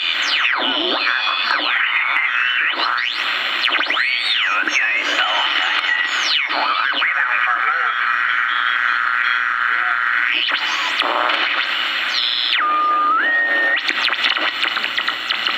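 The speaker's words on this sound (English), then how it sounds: "mostly what you're going to get up here on 2 megahertz is your just noise and a little bit of data" A BC-342N receiver on 2 MHz gives shortwave radio noise with whistling, sweeping tones and warbling interference over a constant hiss, continuous and fairly loud.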